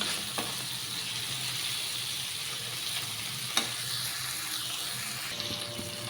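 Cluster beans and onion masala fry gently over a low flame with curry leaves, a steady soft hiss and crackle heard close up, with one brief clink of a utensil and nobody speaking.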